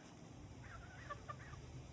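Backyard chickens give soft, scattered clucks at a distance, faint and brief in a quiet afternoon setting.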